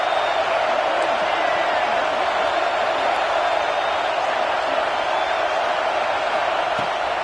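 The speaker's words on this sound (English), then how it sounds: "Man, this crowd really affecting the football game." A home crowd at an NCAA college football game keeps up a steady, loud roar of cheering and noise that fills the space without a break, heard from within the stadium.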